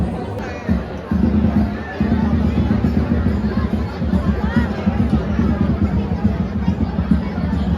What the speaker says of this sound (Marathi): गाईस एवढी गर्दी आहे ना, तर बघा तुम्हीच बघा